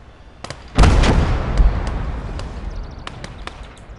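A 76mm anti-tank gun fires in the World War II strategy game Gates of Hell: Red Star Rising, one heavy booming shot with a long rumbling decay, followed by scattered distant smaller gunshots.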